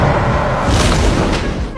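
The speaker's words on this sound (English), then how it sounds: "The bomb flew straight into the fire dragon's enormous mouth, instantly creating a chain reaction with the explosion and flames." A bomb explodes inside a fire dragon's huge mouth in a monster-hunting movie scene, a dense roaring blast with rumbling low end that swells briefly and stays loud throughout.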